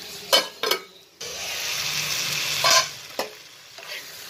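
Curry stirring in a pan on low heat: a few scraping, clattering strokes of a spoon against the pan, then a steady sizzle and bubbling with sharper scrapes at intervals, close and fairly loud, no voices.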